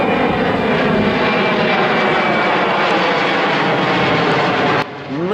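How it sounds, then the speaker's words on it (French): Airplanes taking off from Zaventem airport produce a loud, continuous jet roar that holds steady and then cuts off sharply near the end. "on est dérangé par les avions qui décollent de Zaventem"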